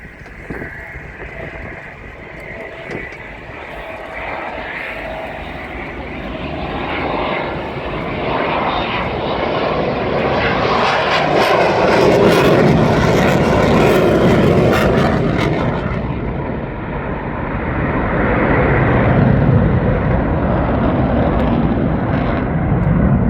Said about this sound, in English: And it's a safe landing for the C-130.